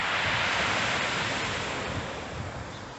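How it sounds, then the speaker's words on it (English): Sea waves breaking on a rocky shore on a calm day, a steady continuous wash of surf with some wind rumble, loud and close throughout, with no voices. "The sea's flattened off loads."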